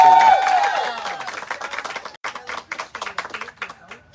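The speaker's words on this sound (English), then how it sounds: "Everybody, round of applause." Crowd at an animal shelter fundraiser for dogs and cats breaks into clapping, a dense burst of applause that thins into scattered individual claps over a few seconds, with voices mixed in at the start.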